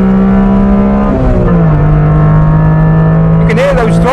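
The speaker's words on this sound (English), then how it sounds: "You can hear those throttle bodies at the back." A 1992 Honda Beat's small, high-strung engine revs hard and close, its individual throttle-body intake howl rising and falling with shifts, loud and continuous inside the cabin.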